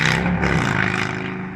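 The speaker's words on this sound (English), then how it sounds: "That's the sound of a motorcycle with loud pipes." A motorcycle with loud aftermarket pipes roars past close by, a deep rumbling exhaust that swells and then slowly fades as it moves away.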